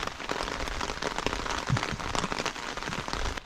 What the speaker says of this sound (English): The rain here goes sideways always.